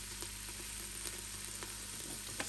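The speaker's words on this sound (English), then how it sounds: "once you start to hear the sizzling sound" Garlic cloves sizzling in hot oil while sautéing in an Instant Pot, a soft steady frying hiss with faint crackles and pops, quiet and close with no voices.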